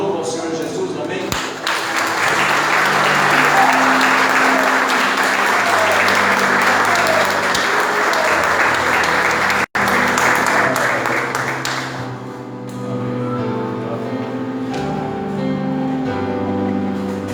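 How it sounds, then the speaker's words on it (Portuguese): A church congregation applauding in praise during a service, loud sustained close clapping that continues for many seconds before easing, with music and voices mixed in underneath. "as palmas louvam ao Senhor Jesus"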